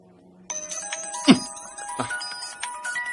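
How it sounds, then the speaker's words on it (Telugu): A telephone rings from a call placed at a pump set, with repeated electronic ringing tones and a couple of sharper chimes, fairly close and alone. "అరే మాణిక్యం పంపు సెట్ నుంచి ఫోన్ చేస్తాడు."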